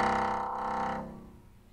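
A sustained harmonic sound texture with a slow fluctuating gait, loud for about a second and then thinning into a quieter, darker tail with no voices.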